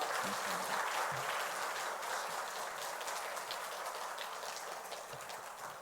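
A church congregation applauds during a Sunday worship service at a summer church retreat, the clapping sounding as a steady, dense wash that holds evenly for several seconds, fairly soft and distant.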